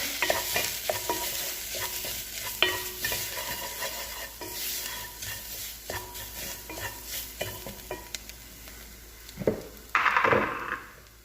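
Mutton kuzhambu masala with pepper powder being stirred and fried in a pan, a steady close sizzle with repeated scraping stirs and a louder burst of frying near the end.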